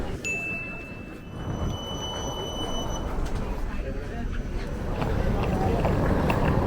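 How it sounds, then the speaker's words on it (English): An Edinburgh tram rolls toward the city centre, a steady rumbling ride with rail noise that builds toward the end, a brief high electronic tone near the start, and people talking over it. "we've got to get a tram into the city centre"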